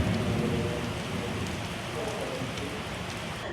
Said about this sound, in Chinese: 下雨了，下雨了，雨中八幡寺，我还打雷呢，老吓人了